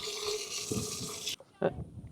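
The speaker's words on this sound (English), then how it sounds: "Will you go turn the water off?" Water running from a farm tap or faucet, a steady broadband rush that stops abruptly partway through, followed by a few knocks and clatters, with faint talk underneath.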